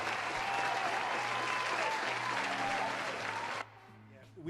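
A crowd at a rock and variety show claps loudly and continuously, with a voice briefly audible beneath. The applause cuts off abruptly near the end, leaving quieter room sound.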